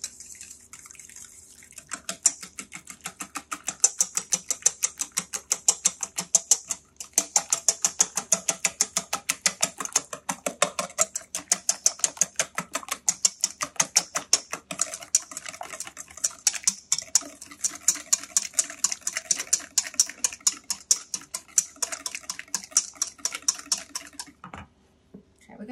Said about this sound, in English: Okay, I'm gonna stir this.